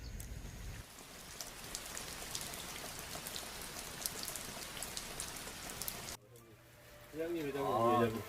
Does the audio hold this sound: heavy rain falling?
yes